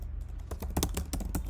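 Quick, irregular keystrokes tap on a computer keyboard as someone types a short line of code, soft and close with no talking.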